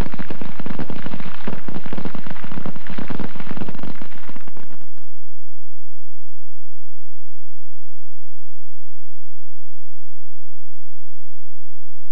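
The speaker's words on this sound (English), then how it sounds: "training is devoted to firing weapons at multiple and moving targets" Rifles and other weapons fire at multiple moving targets during Marine Corps recruit training at Parris Island, making a loud, dense barrage of overlapping shots for about five seconds before it drops away to a low background hum.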